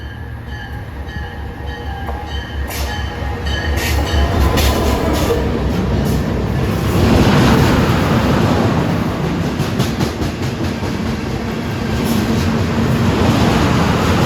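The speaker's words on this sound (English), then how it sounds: "at 5:37 we have a shared assets local freight here going towards Philly. Going down track 4." A shared assets local freight train rolls past on track 4 near Philadelphia, heading toward Philly, a steady loud rumble with wheel clatter and rail squeal, building as it passes close by.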